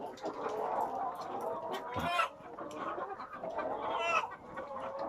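Laying hens cluck in an egg-production chicken coop, a dense ongoing chorus of overlapping clucks and squawks at moderate level, with a few louder calls standing out.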